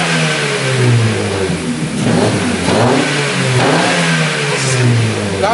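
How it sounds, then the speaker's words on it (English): A Honda Civic FN1 with a loud aftermarket exhaust is revved hard nearby. It gives a sustained, raspy roar that rises and falls slightly, with no speech. "That does not sound like a Honda at all."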